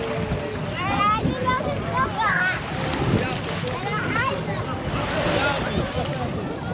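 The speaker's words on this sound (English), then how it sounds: "There's a nice breeze that's kicking." Wind gusts by the shore in Albania, a steady broad rush mixed with lapping water, with people talking over it throughout.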